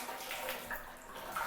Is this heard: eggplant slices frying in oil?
no